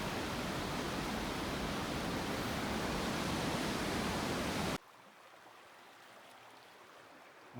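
A river rushing right beside a backcountry campsite on a wilderness hiking trail makes a loud, even roar of flowing water, then abruptly drops to a much quieter, distant-sounding rush for the last few seconds.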